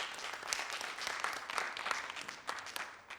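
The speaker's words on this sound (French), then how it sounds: "On va l'applaudir," Studio audience applause on a French TV variety show set, moderate clapping with distinct individual claps, rising and falling over a few seconds before tapering off.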